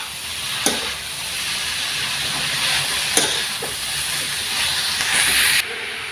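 Cabbage, capsicum and green chili stir-fry in a hot pan for paneer noodles, giving a loud, continuous sizzling hiss with a few sharp utensil knocks and scrapes.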